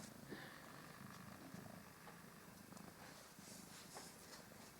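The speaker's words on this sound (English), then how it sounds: "Excuse the appearance of this cat." A cat purring steadily up close, a continuous low rumbling drone that holds for the whole stretch with no pauses.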